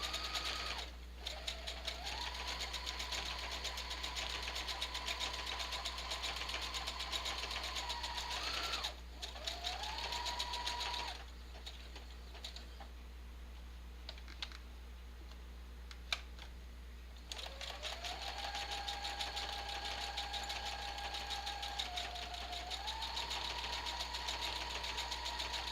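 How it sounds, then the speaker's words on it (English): A sewing machine stitching through paper tags, running in steady mechanical bursts with rapid needle clatter, stopping and restarting several times against a constant low hum. "This sewing machine has 100 different"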